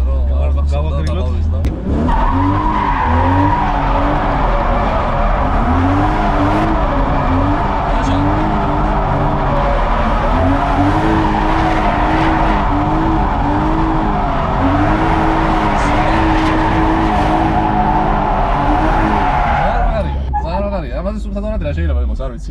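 A drifting car screeches its tires continuously over a rising and falling engine whine, loud and close, sustained for about twenty seconds before easing off.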